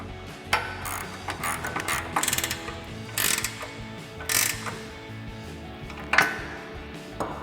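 A 17mm ratcheting wrench clicks in short bursts while tightening front bumper pivot bolts on a 2016-2023 Toyota Tacoma, with close metallic ratchet clatter and small clanks between pauses.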